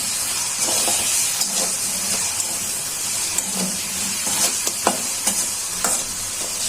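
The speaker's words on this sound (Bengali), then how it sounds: "চিংড়ি মাছটা পেঁয়াজের সাথে ভেজে নিব।" A steady hiss of prawns frying with onion in a hot pan, with intermittent scraping and stirring clicks throughout.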